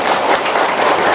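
An audience claps together in a short burst of dense, continuous applause, loud and close.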